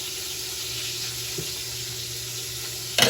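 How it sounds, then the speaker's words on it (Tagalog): A single piece of babakan fish, sliced, sizzling steadily in a frying pan, a constant broadband hiss throughout with a brief louder burst of spatter near the end. "nagprito na ng isang babakan, isang piraso"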